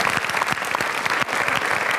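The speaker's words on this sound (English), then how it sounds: "Let's give the Lord a great big praise clap." A church congregation claps in praise, a dense, steady wash of applause with sharper individual claps throughout.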